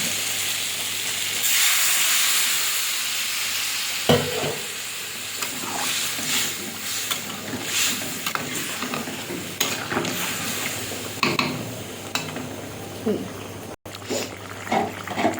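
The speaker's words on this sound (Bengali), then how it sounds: "ঝোলটা ফুটে উঠেছে" A light fish curry broth bubbles and hisses in a pan, a steady close simmer with brief stirring scrapes and clinks now and then.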